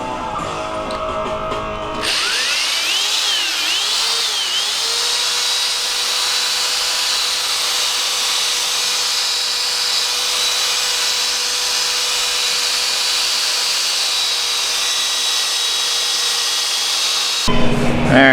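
A drill drives a 3M polishing kit pad over a hazed car headlamp, giving a steady high whirring hum with a rubbing hiss for about fifteen seconds. It starts after a short moment and stops abruptly near the end.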